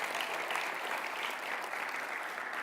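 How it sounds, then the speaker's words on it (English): A quiet round of applause from a seminar audience on self healing, steady dense clapping that stays even throughout, heard at a distance with no voices. "So let's give yourself a round of applause."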